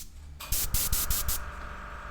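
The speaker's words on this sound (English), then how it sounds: "Can you hear it? That's the compressor." A small air compressor filling its tank gives a series of sharp, loud hissing air bursts in quick succession, then settles into a steady mechanical hum close to the microphone.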